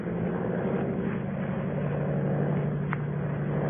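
A monoplane engine drones as a radio drama sound effect, a steady, continuous propeller hum with a muffled, narrow-band quality, even in loudness throughout and heard alone without voices.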